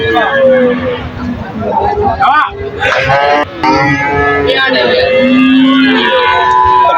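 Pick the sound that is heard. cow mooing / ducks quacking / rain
cow mooing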